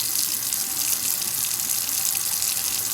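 Water runs from a reverse osmosis faucet under a kitchen sink, a steady, close splashing stream lasting the whole stretch with no voices.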